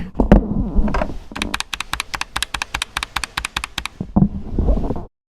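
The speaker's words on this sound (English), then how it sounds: "First off, mechanical keyboard, and it's not super loud." Keys on a mechanical keyboard are typed in a quick, even run of crisp clicks, close and fairly loud, framed by heavier handling thumps at the start and end.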